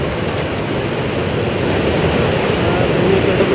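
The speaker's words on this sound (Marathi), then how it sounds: "गंगापूर धरणातून पाणी सोडलं जातंय आणि पाणी सोडल्यानं सोमेश्वर धबधबा प्रवाहित झालेला आहे" Someshwar waterfall in Nashik roaring after water released from Gangapur dam, a loud, dense, unbroken rush of falling water heard close, without pauses.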